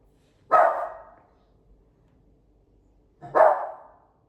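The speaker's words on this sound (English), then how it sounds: "That dog is losing its mind in the background." Two distinct dog barks spaced about three seconds apart, each sharp and fairly loud, with quiet in between.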